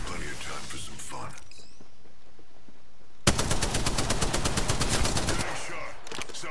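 Rapid automatic gunfire hits the player in the video game Apex Legends, a loud burst of closely spaced shots breaking in suddenly after a quieter stretch and continuing for several seconds.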